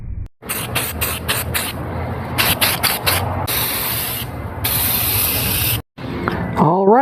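Primer is spray-painted onto a bicycle frame, with short bursts of hissing spray, then longer sustained passes with brief pauses, close and fairly loud, and a few mechanical rattles near the end.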